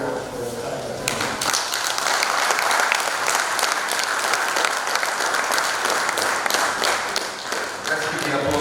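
Audience at a TETFund book presentation breaks into applause, a dense, sustained clapping that builds quickly after a brief voice and stays steady and fairly close before easing slightly near the end.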